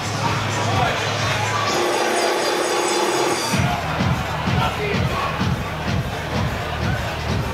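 Large crowd roaring and cheering at a live combat sports fight night, a dense continuous wall of voices filling the hall, with commentators talking over it.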